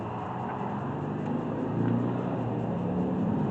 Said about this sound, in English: there's probably been about 35, 40 motorcycles go down by the shop here